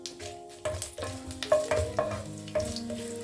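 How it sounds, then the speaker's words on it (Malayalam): Mustard seeds popping with dried red chillies in hot coconut oil in a home kitchen, with irregular sharp crackles and pops over a soft sizzle, fairly close and moderate in level. "ഇതിലേക്ക് 1 ടീസ്പൂൺ കടുക് പൊട്ടി വരുന്നുണ്ട്"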